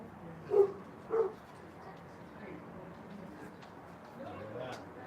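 Fifty-one-day-old chocolate Labrador puppies give two short, close yips early on, then fainter whimpers, while people talk quietly nearby.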